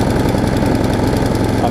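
A Craftsman self-propelled lawn mower engine, with a freshly cleaned carburetor and running on old gas, runs close and loud with a steady, slightly uneven chugging throb and no other sounds.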